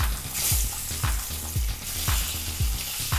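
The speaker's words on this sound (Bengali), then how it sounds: "এবার এটাকে আমরা একটু ফ্রাই করে নেব।" Boiled eggs fry in spiced oil under a loud, steady sizzle, with a low rhythmic thump recurring about every half second as they are turned or stirred, and no talking.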